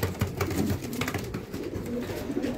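Racing pigeons cooing and fluttering while being fed, two of them squabbling; steady low coos with scattered wing flaps and scuffles, close and moderately loud, no talk.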